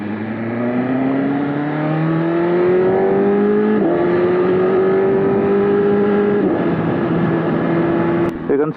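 A BMW S1000RR sport motorcycle fitted with a slip-on exhaust revs loud and close while riding, its engine tone climbing steadily with a couple of gear shifts, a sustained strong roar throughout.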